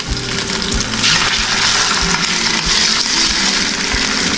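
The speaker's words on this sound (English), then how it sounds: "We're going to start frying them up. Got a little bit of oil in the bottom of the pan." Country style pork ribs fry in a little oil in a pan, giving a steady, loud, close sizzle with crackling pops throughout and no talk.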